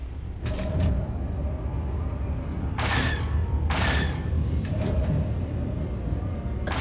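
Missile impacts striking a starfighter in the space combat game Star Wars: The Old Republic, heard as several loud bursts of crackling blast noise over a steady engine rumble, with no voices.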